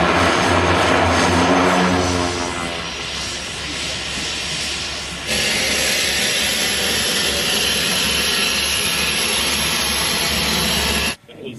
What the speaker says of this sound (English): Did you hear the plane just landed?